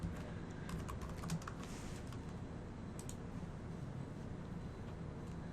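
Steady typing on a computer keyboard in a warehouse office, quick light key clicks running continuously at close range over a constant background hum, with no talking.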